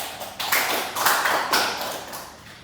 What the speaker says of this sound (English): Give applause to everyone